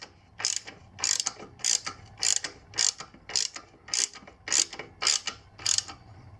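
A ratchet tightens the stock footpeg bolt on a Sur Ron electric bike: about nine evenly spaced bursts of close, crisp clicking, one stroke after another, with no talk.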